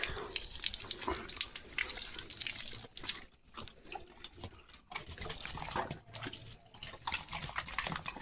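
Water runs weakly from a low-pressure tap into a sink, splashing unevenly and pausing briefly a few times, close and fairly soft.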